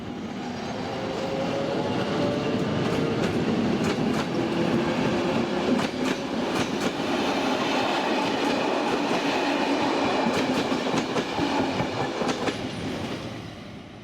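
A train hauled by a Skoda-built Class 44 locomotive rolls steadily past with rhythmic clickety-clack of wheels over rail joints, a continuous loud rumble that fades slightly at the end.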